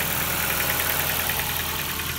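A Ford Focus MK2.5 with the 1.6 Zetec engine idles with a steady, even hum and a faint fine ticking, close and continuous with no talk.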